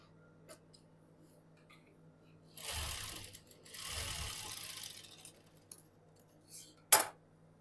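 A sewing machine stitches a folded frock hem in two runs of steady mechanical whirring, separated by a short pause, with a sharp click near the end; close and moderately loud, no talk.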